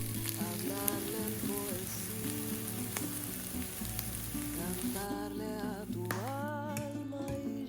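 Canned pinto beans, being cooked and mashed in a pan on the stovetop, sizzle steadily throughout, with background music playing over the frying.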